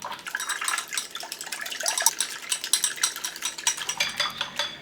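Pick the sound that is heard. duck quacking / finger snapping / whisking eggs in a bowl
whisking eggs in a bowl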